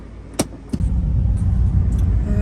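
A car drives along a road in Bali, heard from inside as a steady low rumble with a couple of sharp clicks or knocks early on and no talking.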